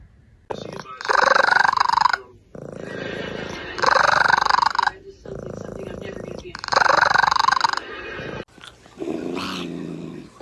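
A cat makes strange growling, yowling sounds in about five drawn-out bursts separated by short pauses, close and fairly loud.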